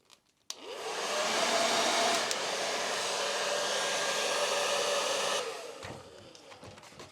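A hot air tool blows steadily to loosen the glued battery inside a Rode Wireless Go 2 microphone, a close, even whooshing roar that starts abruptly, holds for about five seconds and then winds down.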